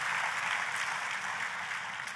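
Church congregation applauding enthusiastically during a sermon, a steady, dense wash of clapping that fills the whole moment without pause, close and fairly loud.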